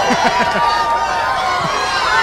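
A large race crowd at the 2002 Winston driver introductions roars and chatters in a continuous wash of noise, with voices talking up close over it.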